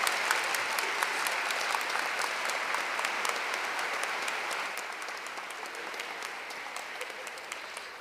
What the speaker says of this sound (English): Another round of applause for Commissioner Ortega.